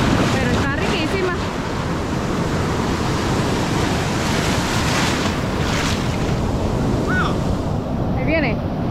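Ocean surf breaks and washes continuously on the warm-water beach at Costa del Sol, El Salvador, a loud roaring wall of waves with wind buffeting the microphone and brief distant voices.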